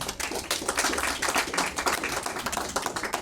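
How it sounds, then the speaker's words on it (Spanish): A crowd claps steadily at a church service, a dense burst of applause that holds at an even level for a few seconds. "Dale un aplauso al Señor Jesús."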